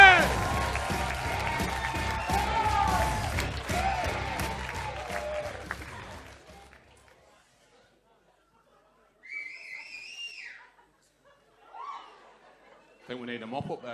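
Comedy club audience in Stockton-on-Tees applauding and laughing for a comedian, loud clapping and cheers that fade to silence after about seven seconds, followed by a few brief bits of speech.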